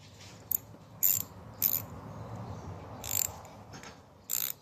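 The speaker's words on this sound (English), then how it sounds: "Listen to that ratcheting." An SK brand quarter-inch socket ratchet, freshly restored and lubricated, clicks through five short bursts of fine ratcheting, spaced irregularly and heard close up over a quiet low background hum.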